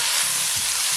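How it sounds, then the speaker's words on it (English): Onion with orange and scotch bonnet peppers sautés in a hot pan, a loud, continuous close-up sizzle with no pauses. "saute that just for a quick minute."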